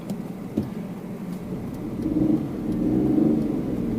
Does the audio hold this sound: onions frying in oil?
no